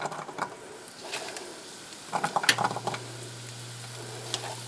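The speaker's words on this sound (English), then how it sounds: "I'm just going to add some onions." Onions with chilies start frying in a pan for refried beans, a quiet sizzle rising into a brief burst of crackling and stirring, then settling to a soft steady fry; no one speaks.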